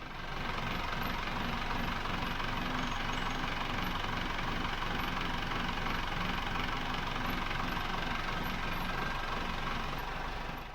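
Vintage yacht engine running steadily throughout a test aboard a boat under restoration, a continuous close, loud mechanical drone with a faint knocking rhythm and no talk.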